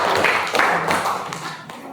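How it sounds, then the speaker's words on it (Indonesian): Scattered, uneven clapping from a classroom group applauding a presenting team, a short burst of hand claps that thins out quickly. "tepuk tangan kagem kelompok"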